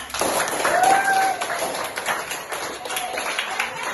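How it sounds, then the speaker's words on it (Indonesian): Children in a classroom clap their hands together as a group, a dense, busy patter of many small claps mixed with voices and a brief high squeal, filling the room. "Sudah? Tepuk tangan semuanya."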